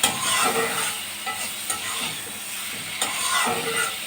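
Chopped tomatoes stirred into a well-fried spiced masala in a kadai, a loud continuous sizzle with rhythmic scraping strokes of the spatula, close up and with no voices.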